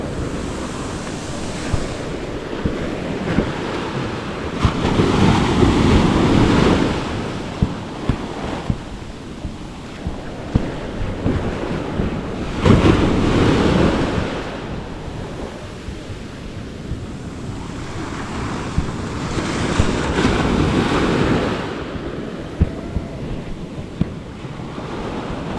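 Sea waves crash onto a beach in repeated surges, each swell building to a loud roar and fading back, with wind buffeting the microphone throughout and no talk.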